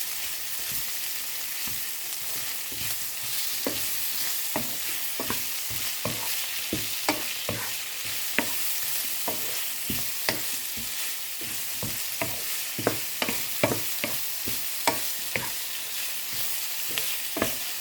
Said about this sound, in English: we can mix the minced pork while stirring